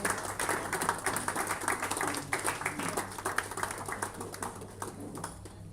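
A crowd applauds a public presentation of a legal-policy report with steady, dense clapping that carries on throughout, gradually thinning slightly toward the end.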